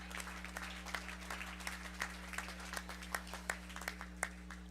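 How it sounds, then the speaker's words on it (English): Scattered applause from the audience at a county fair 4-H and FFA market beef show as exhibitors leave the ring, distinct claps over a steady low electrical hum, fairly faint and distant. "Let's give all these exhibitors a round of applause as they leave the ring."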